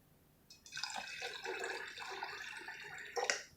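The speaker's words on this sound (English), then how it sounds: "I am going to go ahead and add 1 cup of water" One cup of water pours steadily into a container of homemade alcohol-free vanilla extract, a close, continuous splashing trickle lasting a few seconds with a brief louder splash at the end.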